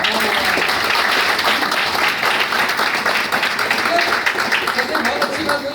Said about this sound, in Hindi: तो डिसीजन सर के लिए जोरदार तालियां